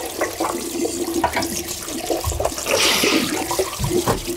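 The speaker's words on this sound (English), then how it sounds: "I'm literally just rinsing this with cold water right now." Cold water pours and splashes steadily over dyed fabric being rinsed by hand, a close, continuous rush with sloshing surges and no talk.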